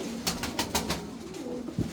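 Racing pigeons coo in a series of soft, rhythmic throaty calls, close and moderately loud, with a low murmur behind them.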